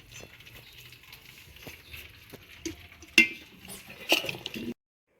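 Rice and chicken being layered into a pot for homemade chicken biryani, heard as faint scraping, soft patters and a couple of sharper spoon clinks against the pot, close and quiet before sudden silence.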